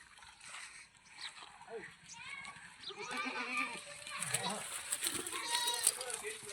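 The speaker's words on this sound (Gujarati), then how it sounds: "જો આ અમારા બકરા" Goats bleat intermittently in a village setting, several calls over a few seconds mixed with children's voices and nearby talking.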